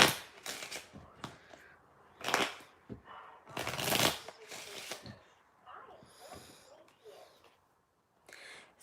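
Playing cards are shuffled in a tarot reading, with several quick riffling and snapping bursts close by, separated by short pauses and softer handling rustles.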